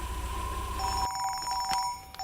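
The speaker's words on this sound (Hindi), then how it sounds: "मुरली का फोन आ गया।" A telephone rings with an incoming call in a tense Hindi film scene: a steady electronic ringing tone, close and clear, with the background dropping away partway through.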